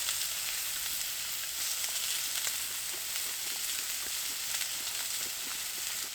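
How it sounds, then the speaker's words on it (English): Four pork chops sizzle steadily in a hot pan at a winter camp inside a wood-heated tent, a dense, continuous frying hiss close up with small pops and crackles and no talking. "I'm cooking 4 pork chops."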